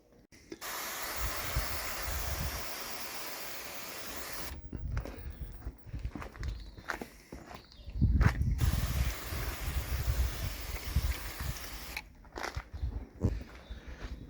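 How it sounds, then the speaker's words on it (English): A pressurized pump water sprayer hisses in a long steady spray, wetting headlight lenses on a Ford Focus ST, then gives shorter bursts with clicking pump strokes and handling noises, close by. "It's a water sprayer that works under pressure."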